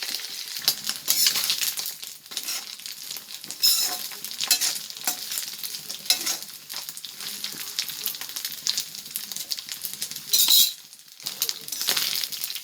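Anchovy dry fish (nethili karuvadu) fries in a pan, giving a busy, uneven crackle and sizzle broken by frequent clinks and scrapes of a metal spatula stirring, close and fairly loud, with no speech.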